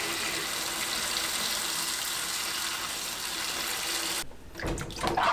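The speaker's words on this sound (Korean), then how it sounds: "흐르는 물로 깨끗하게 씻어줍니다." Apples are rinsed under a running kitchen tap, a steady close stream of water that stops near the end, followed by a few wet handling sounds, without any talking.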